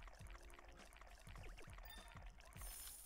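A drink is poured in the video game Dave the Diver, a steady liquid trickle running under busy in-game music and clatter, moderately close, with no voices.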